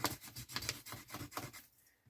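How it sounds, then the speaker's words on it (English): Paper glued with tacky glue is burnished down by hand in quick, repeated rubbing strokes, about a dozen soft, close scrapes before falling quiet. "So some Anita's tacky glue on the back, fold it over and burnish it down."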